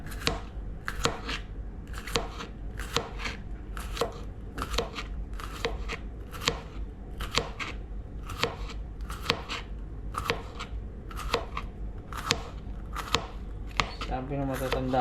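Knife slicing bitter gourd on a board, a steady series of crisp, close chops roughly every half second, with quiet background music.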